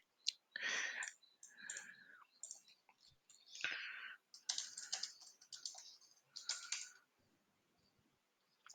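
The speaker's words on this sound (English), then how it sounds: "Let me type another question" Short bursts of clicking on a computer keyboard, quiet and close, separated by pauses as a question is entered into a chatbot.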